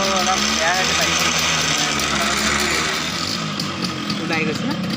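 A Yamaha RX100 motorcycle engine running steadily at a loud, close idle, an even two-stroke drone with no pauses throughout.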